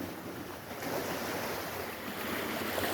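Ocean waves wash steadily up onto an island shore as a continuous broadband surf roar, close and fairly loud, with wind buffeting the microphone.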